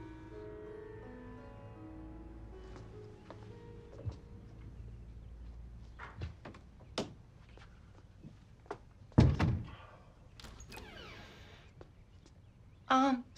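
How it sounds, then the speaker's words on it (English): A door is shut in a quiet room, with a few soft knocks and shuffles building to a firm thud, then a final clunk as it closes. "Can you please shut my door now?"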